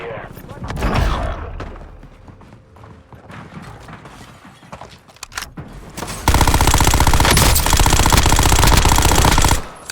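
Call of Duty Warzone battle royale gunfire with an M13 rifle: scattered shots and bursts, then a loud continuous stream of automatic fire, with voices shouting over the action.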